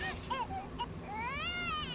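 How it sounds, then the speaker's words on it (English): Baby in The Sims 4 video game crying in short wavering bursts, then a longer rising wail, heard loudly over faint game background sounds. "Why is she crying?"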